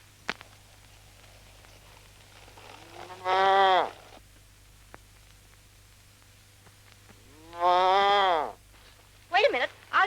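A calf caught in a fence moos twice in long, strained, drawn-out calls separated by quiet, then gives a few shorter, choppy cries at the very end.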